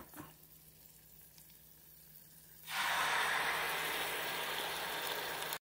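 Sugar and butter melting and caramelizing in a pan while being stirred; a quiet start gives way to a loud, steady sizzle that continues evenly for several seconds, with no talking.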